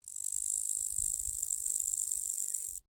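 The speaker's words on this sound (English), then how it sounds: "Grasshopper." A grasshopper chirps in a steady, continuous high-pitched buzzing trill that carries on without pause for about three seconds, fairly quiet and with no voices over it.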